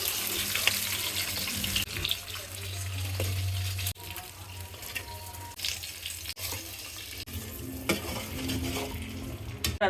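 Fried catla fish heads go into a pot of cooking dal one by one, with wet stirring, sloshing and a soft sizzle running steadily throughout, close and fairly quiet.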